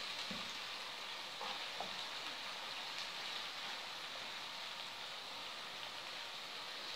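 Onions fry in a pan with a faint, steady sizzle, with a few soft clinks and stirring sounds near the start.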